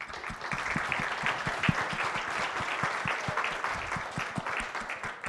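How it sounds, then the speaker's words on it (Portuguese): A crowd applauds steadily, a dense and even wash of many hands clapping that holds at the same level throughout. "uma salva de palmas"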